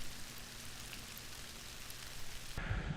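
Steady rain falls on a rural farm in the Pre-Pyrenees, a dense even hiss of drops heard close and constant, briefly growing louder and coarser near the end.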